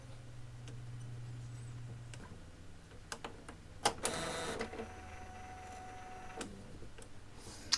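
An Epson printer recalibrates its print head, a carriage whirring and clicking with sharp ticks, a louder mechanical burst midway, then quieter motor hum and a final click.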